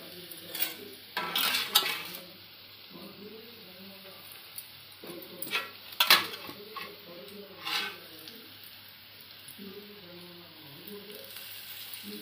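A spoon scrapes and clatters against a pan while beetroot curry with garlic paste is stirred and gently sizzles, with irregular metallic knocks clustered in bursts over a low steady hiss.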